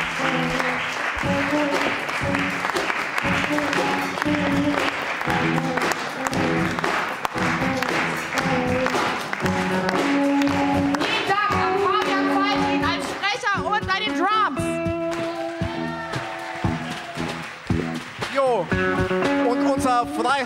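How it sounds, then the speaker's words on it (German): Theatre audience applauds after a stage scene, dense clapping swelling and continuing throughout with cheers and voices mixed in, loud and close. "Applaus bitte."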